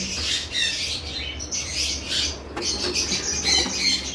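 Harsh, repeated squawks from conure parrots, a breeding pair offered for sale with their breeding box, calling almost continuously in close, shrill bursts with a bright, raspy edge.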